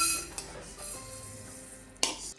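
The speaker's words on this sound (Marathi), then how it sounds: "आपली उडदाची डाळ अशी छान अगदी खुळखुळीत आवाज यायला बघ" Urad dal dry-roasts over a low flame in a pan for bhajani flour, the grains giving a light rattling clink with an early tap and one sharper metallic knock near the end.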